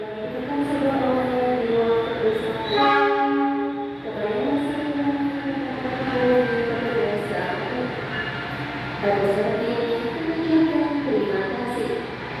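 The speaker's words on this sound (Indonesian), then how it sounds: "Argo Wilis dari Surabaya Gubeng tujuan akhir stasiun Bandung, membawa 2 kelas eksekutif dan panoramik" The Argo Wilis passenger train, Surabaya Gubeng to Bandung with executive and panoramic cars, rumbles past steadily with a brief horn blast early on, the rolling noise continuing at a constant level.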